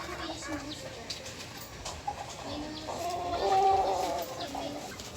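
Hens cluck repeatedly nearby, with a drawn-out clucking call building in the middle, over a murmur of outdoor background noise.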